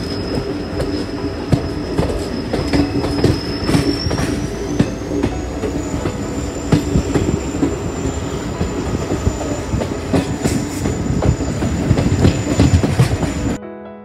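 Train on rails toward New Jalpaiguri station: a steady, loud rumble of wheels with clicking joints and a long high wheel squeal running through, heard from inside a moving carriage.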